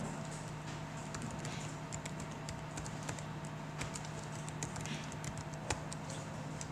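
Quiet, rapid typing on a computer keyboard while writing HTML code, a steady patter of soft keystrokes over a low electrical hum, close but faint.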